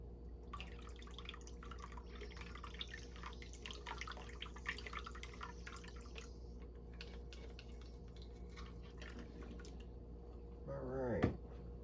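Faint water drips and small trickles sound while a snuffer bottle used for gold panning is cleaned out, irregular and close over a low steady hum, with a brief louder squirt near the end.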